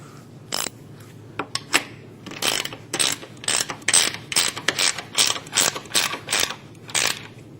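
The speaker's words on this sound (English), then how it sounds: "we're going to go ahead and tighten that down. It is a 9/16 wrench." A 9/16 wrench tightens a nut on a bolt while a workwall is installed on wood, giving a close, loud run of rapid ratcheting clicks in short bursts.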